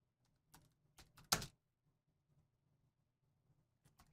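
Someone taps a few quick keys on a computer keyboard in a quiet room, sparse soft clicks with one louder clatter in the middle and long pauses between.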